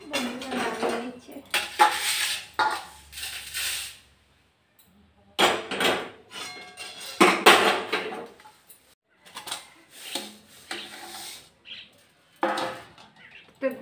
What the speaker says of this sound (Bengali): এটা একটু শিলনোড়াতে বেটে নিতে হবে, গুঁড়ো করে নিতে হবে।